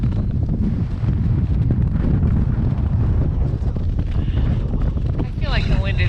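Strong gusty mountain wind on the exposed summit of Mount Jefferson in subzero wind chill, a steady loud roar buffeting the microphone throughout with no pause.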